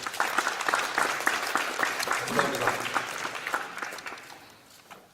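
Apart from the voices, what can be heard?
audience applause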